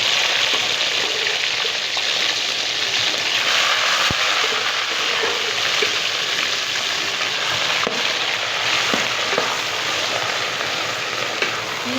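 Ground spinach hits a pan of golden fried garlic in a Sindhi-style village kitchen, giving a loud, steady sizzle with occasional stirring clicks and no voices.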